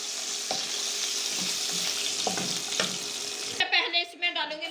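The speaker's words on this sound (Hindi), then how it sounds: "इसे अच्छी तरह से फ्राई होने देंगे" Chicken for chow mein frying in a pan, a continuous close sizzle with a few light stirring knocks, then a rush of water noise near the end.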